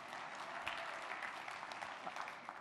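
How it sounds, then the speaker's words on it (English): An audience at a convention lunch claps throughout, a faint, dense and even patter of many hands that sounds fairly distant. "I won't dissuade you from clapping"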